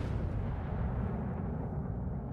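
Battleship main guns firing a volley in World of Warships, a Bismarck broadside, heard as a heavy, booming blast with a long rumbling roar that fades away.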